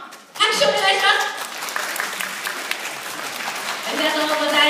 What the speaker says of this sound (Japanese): うちの子最高という保護者の皆様、拍手をお願いします